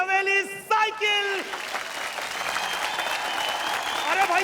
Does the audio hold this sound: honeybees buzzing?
no